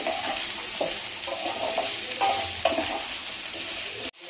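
Mango pieces for a pickle frying in a pan: continuous bright sizzling with rhythmic scraping as they are stirred, close up and fairly even, ending abruptly.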